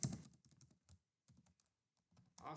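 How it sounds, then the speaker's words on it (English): Keystrokes on a computer keyboard while entering a Windows command, quick irregular clicks in short bursts separated by brief pauses, close and fairly quiet. "I am typing."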